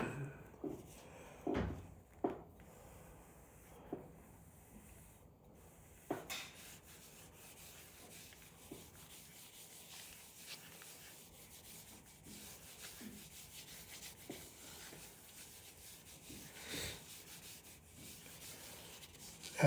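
Howard Feed-N-Wax is rubbed by hand into a walnut candy dish: faint, close, intermittent rubbing and wiping strokes with a few soft knocks against a quiet background.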